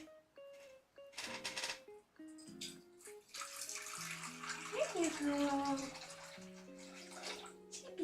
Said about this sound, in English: Gotta pour some water in.